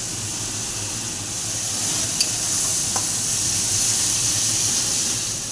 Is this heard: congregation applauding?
no